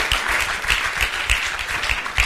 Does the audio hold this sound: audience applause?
yes